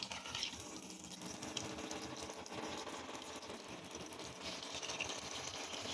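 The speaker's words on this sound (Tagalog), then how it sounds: "Siyempre, lalagyan natin ng tubig." Water poured into a pot of meat curry, a steady, continuous gushing splash with a faint sizzle underneath, running evenly for several seconds with no talk.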